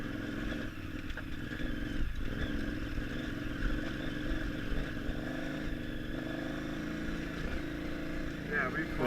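A motorcycle ridden off-road on a warm day gives a steady, rumbling engine drone with wind and rattling clatter throughout, loud and continuous with no clear breaks.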